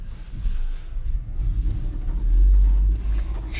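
A deep, rumbling hybrid logging truck engine runs steadily nearby, its low drone swelling slightly louder partway through, with no voices.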